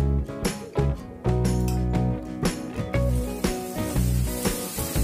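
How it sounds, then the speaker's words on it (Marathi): Masala sizzling and frying in a pan while making pasta, a loud, steady hiss with bursts of crackle and occasional clinks of utensil against the pan, heard alone without talk. "याला फ्राय करूया।"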